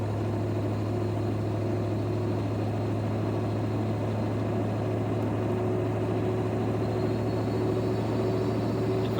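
A deep, steady 7.3 Powerstroke diesel pickup engine drone with a constant low hum, running continuously and fairly loud while hauling a dozer on the interstate.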